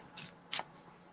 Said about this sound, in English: just shuffle it this way because I have cards that are frayed on the edge and it makes it a little harder to shuffle